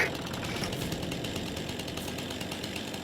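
Chainsaw running steadily in a forestry video game, a constant buzzing drone that holds near and loud throughout with no pauses.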